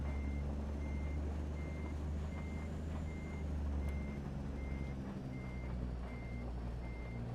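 Steady, evenly spaced reversing beeps from a truck in American Truck Simulator, sounding over a constant low engine drone throughout with no talk.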